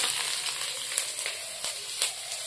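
Chopped onion goes into hot oil already holding bay leaf, green chilli and garlic for a Bengali small-fish potato and aubrinjal curry, giving a steady close sizzle with faint crackles and a few soft stirring knocks, no talk.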